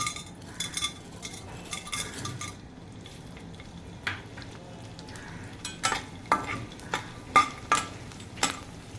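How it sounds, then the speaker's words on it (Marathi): Small pieces of edible gum fry in hot ghee for sweet laddoos, a soft steady sizzle with scattered metallic clinks and stirring scrapes of a spoon against the pan, the clinks sharper and more frequent toward the end. "चार चमचे तूप घेऊन गरम करून घ्यायचे चांगलं आता थोडा थोडा करत हा डिंक आपल्याला तळून घ्यायचा"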